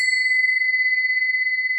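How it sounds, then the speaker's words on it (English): Chimes ring out in one sustained, steady bell-like tone that holds evenly at moderate loudness for about two seconds, heard alone with no talk. "we're going to use these chimes."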